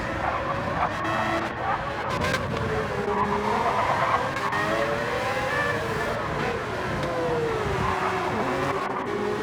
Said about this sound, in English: I think Lukey just spun out